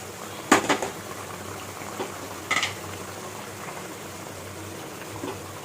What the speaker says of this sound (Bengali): ঝোল খুব ভালো মতন ফুটে গেছে